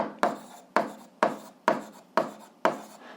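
A pen scratches on paper while an equation is solved by hand, in six evenly spaced strokes that each start sharply and fade. The sound is close and clear, with no talking.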